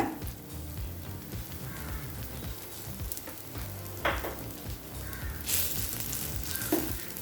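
Spicy garlic dosa frying on a pan on a low flame with sautéed onion and tomato added, a steady sizzle with occasional louder spatula scrapes and no voices.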